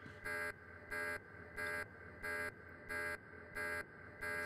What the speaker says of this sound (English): Stop with the alarm, we hear it.